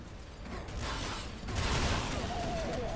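Minigun in the video game Nuclear Throne firing in a rapid continuous mechanical rattle, dense and steady, with game sound effects layered over it and no talk.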